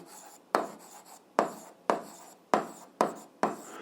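A pen scratches out an algebra solution by hand in seven or so short, crisp strokes, each starting sharply and trailing off, close and alone.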